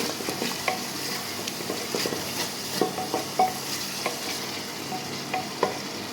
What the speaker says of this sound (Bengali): এই মসুর ডালটাও এখন দিয়ে দেবো ডালটা দিয়ে একটু হালকা কষাই নিই